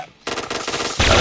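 Rapid automatic gunfire in a first-person shooter video game, a loud continuous burst with a heavier blast at the end, over a faint voice.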